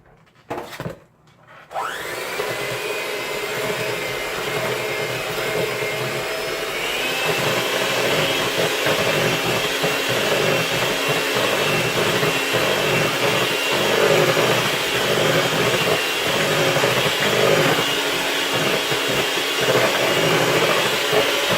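After a brief clatter, an electric mixer blends buttermilk into pound cake batter, running as a continuous loud whirring drone with a steady texture throughout.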